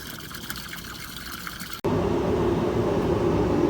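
Cooling water from a Dometic 16k BTU marine air conditioner pours steadily out the side of a sailboat, a continuous rushing splash that suddenly turns louder and nearer partway through.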